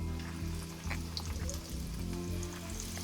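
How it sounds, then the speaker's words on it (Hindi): Continuous sizzling and crackling of meat and potatoes frying in hot oil until golden brown, steady and close, with faint stirring sounds. "उसको फ्राई करना है कि ये गोल्डन ब्राउन हो जाए।"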